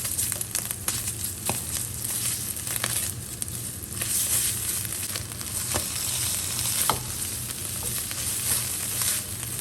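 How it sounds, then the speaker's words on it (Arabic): Tomato paste sautéing in a hot pan, a dense continuous sizzle with crackling spatters and occasional stirring scrapes, close and steady with no talk. "بضيف الحين معجون الطماطم. ضروري كذا تحمسونه على جنب"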